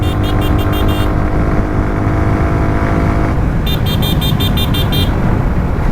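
A vehicle pulls hard from fifth gear on an open village road, giving a loud, constant engine and road roar with two short bursts of rapid high-pitched beeping over it.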